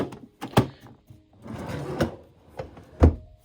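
A craft room drawer full of ink pads slides open with wooden rumbling scrapes and sharp knocks, several close handling thumps over a few seconds.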